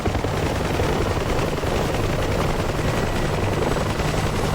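Helicopter in a DCS flight-simulator dogfight over Chad, a loud dense rotor and turbine roar filling the whole stretch without letup, with no voices.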